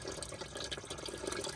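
Water drains and trickles out of the engine of a 1934 Oldsmobile hearse, a steady close splashing flow with no talk over it.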